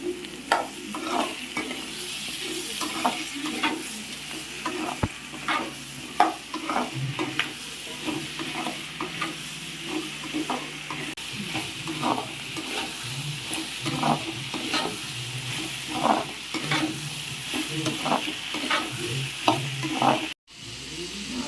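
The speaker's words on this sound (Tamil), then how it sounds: "இப்போ நம்ம தக்காளியை சேர்த்துப்போம்." Onion and tomato sauté in a pan for sweet corn kurma, a low background sizzle under repeated close scraping stirs of a spoon against the pan in an uneven rhythm.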